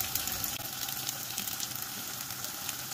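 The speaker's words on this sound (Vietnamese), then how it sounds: "Khi mình chiên nó vàng mặt ở dưới rồi thì bắt đầu mình lật nó xuống mà." Wontons frying in a pan of oil, a dense steady sizzle with crackling pops that stays close and constant throughout.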